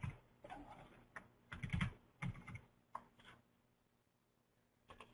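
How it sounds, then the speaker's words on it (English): Typing on a computer keyboard comes as short uneven bursts of close, quiet key clicks separated by pauses, fading to a few isolated taps at the end. "Bad typing."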